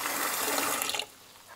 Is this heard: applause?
no